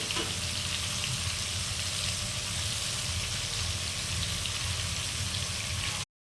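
Rohu fish pieces frying in hot oil, a steady, dense crackling sizzle close by that continues evenly for about six seconds with no talking, then cuts off abruptly.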